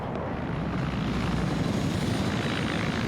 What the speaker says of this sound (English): I want to nail that helicopter